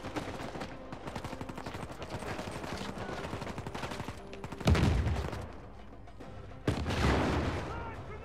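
Rapid gunfire rattles steadily in Uncharted 4 at the drawbridge of the Twelve Towers, then a grenade explosion booms loudly, followed by a second heavy blast.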